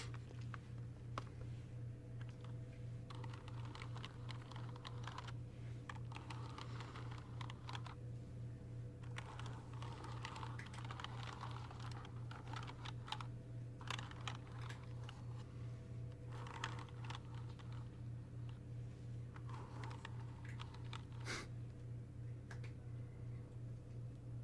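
Steady, close keystrokes tapping on an oversized computer keyboard in a quiet ASMR setting, a continuous patter of clicks with a low constant hum underneath and no talking.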